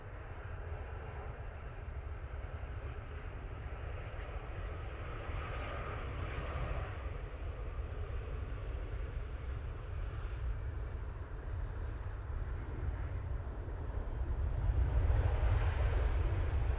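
Qatar Airways Boeing 787-9 Dreamliner from Doha on short final to runway 05L at Manchester Airport in the dark, a steady distant jet engine roar that swells louder toward the end, with no talk.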